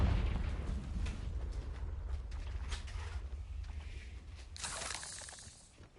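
Confringo blasting spell from Hogwarts Legacy: a rumbling low boom runs throughout and a bright crackling burst erupts near the end, with no voices.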